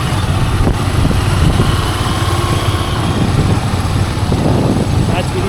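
A motorbike engine drones steadily and loudly as three people ride together along the road toward Dindigad Mahadev Shiv Temple near Bhiwandi, with constant road and wind rumble and no pauses.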